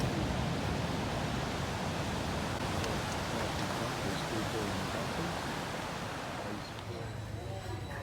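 Dangerous dumping ocean waves breaking at an Australian beach, a continuous broad roar of surf close by, steady and loud, easing slightly toward the end.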